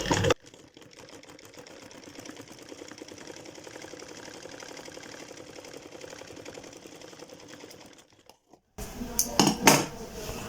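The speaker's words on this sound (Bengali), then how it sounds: "এই যে আরেকটা চাপ সেলাই দিব ওই দিক দিয়ে" A sewing machine runs steadily for about eight seconds while stitching a salwar, with a dense, even mechanical whir. A short pause follows, then louder clattering handling noises close by.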